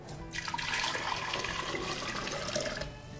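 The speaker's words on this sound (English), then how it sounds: "we're going to take both of the oil and the water and we're going to put them into our pitcher." Oil and water pour steadily into a pitcher during skincare moisturizer making, a continuous close splashing, gurgling stream that runs for about three seconds without speech.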